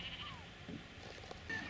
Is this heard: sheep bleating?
yes